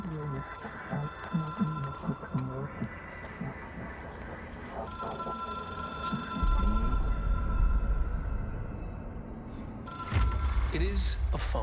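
In the video game Control, a telephone rings with a repeated mechanical bell trill amid game sounds, while someone talks over parts of it and a low rumbling drone swells in the background.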